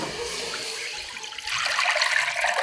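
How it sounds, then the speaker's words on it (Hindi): Water pours into a cooking pot for a dry apricot chutney made with jaggery, a steady rushing splash that grows louder and brighter partway through, close and continuous with no talk. "सबसे पहले हम पानी डालेंगे"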